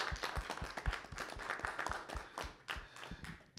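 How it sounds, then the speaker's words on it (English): Modest applause from a workshop audience in Kyoto for panelists and participants, a quiet, fairly sparse patter of individual claps lasting a few seconds. "Can we give a round of applause to all our panelists and the participants"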